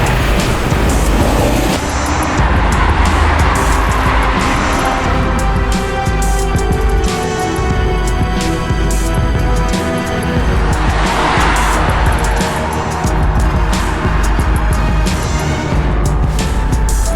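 A car on the road swerves into a sudden sharp turn, its engine roaring loud and close while tires squeal and skid over a continuous stretch of traffic noise.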